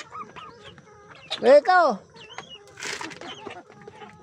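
Chickens on an island farm in the provinces cluck, with a loud burst of rooster-like calling near the middle and softer hen chatter around it, while a person speaks briefly.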